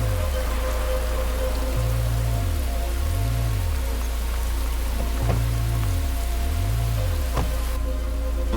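Steady rain falls in a city at night, a dense, even hiss of drops on surfaces that runs the whole time. A low background hum and a few sharp taps sit under it.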